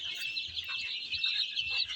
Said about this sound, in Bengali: এখানে দেশি মুরগি অরিজিনাল দেশি মুরগির বাচ্চা রয়েছে